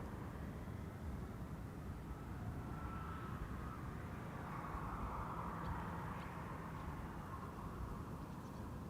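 Fixed-wing airliner departing from runway 24 at Schiphol airport, a steady broad jet engine roar heard from a distance, holding evenly throughout with no talk over it.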